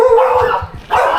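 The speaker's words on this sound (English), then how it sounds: "The dogs are excited about it." Excited dogs bark close by outdoors, a quick run of loud yips and barks with a short pause before another burst of barking.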